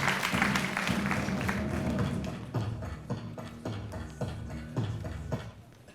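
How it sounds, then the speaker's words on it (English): An audience claps at a final presentation for an interaction design course, strong at first and then thinning out into a few scattered claps and taps before fading. "So let's give them a round of applause."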